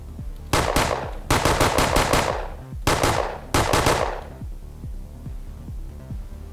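Enemy gunfire in the video game 2WRL Rogue: Operator Trinity comes in loud, rapid automatic bursts separated by short gaps. Fainter scattered shots and game ambience continue afterward, with no voices.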